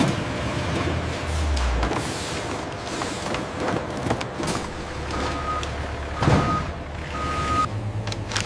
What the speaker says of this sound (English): Loaded refrigerated truck pulls away, headed to distribution centers, grocery chains, food service.